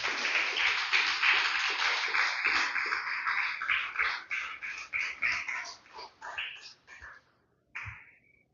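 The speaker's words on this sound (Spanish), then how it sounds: "Den un fuerte aplauso al Señor, hermano." Loud sustained applause from a church congregation, dense clapping filling the room for several seconds before thinning out into scattered claps and fading.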